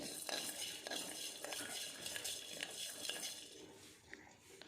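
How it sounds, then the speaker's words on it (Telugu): Peanuts and coriander seeds fry on low heat in a pan as a spoon stirs them. Quiet, steady scraping and clinking over a soft sizzle, with no talking. "కొన్ని పల్లీలు కొద్దిగా ఫ్రై అవ్వాలి సిమ్లో పెట్టి ఫ్రై చేసుకోవాలి"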